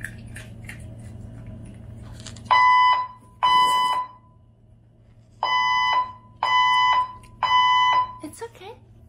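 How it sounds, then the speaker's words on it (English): A fire alarm system test blares in five loud, evenly spaced electronic bursts, with faint background murmur before it starts. "We will be conducting a test of the fire alarm system."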